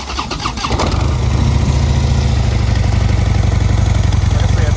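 A 2016 Harley-Davidson Street Bob Limited motorcycle with stock exhaust cranks over, fires up and settles into a loud, close, lumpy idle with a steady throbbing pulse.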